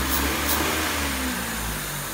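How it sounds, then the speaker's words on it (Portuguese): A car engine runs with its TBI throttle body open, a steady close whooshing roar with a low hum and a slight airy hiss, alone. "Esse barulho aqui é porque tá com a TBI aberta"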